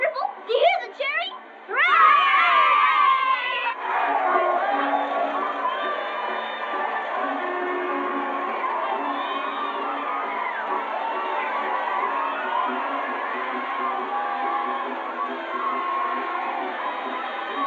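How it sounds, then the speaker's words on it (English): A crowd of children cheering in an old classic drama film, a sustained distant roar of shouting voices under nearby dialogue. "Do you hear the cheering?"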